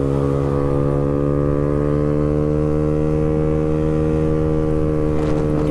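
Loud, steady 115 cc motorcycle engine with a racing exhaust, a drone with a strong harmonic hum at constant speed, close and continuous, no voices.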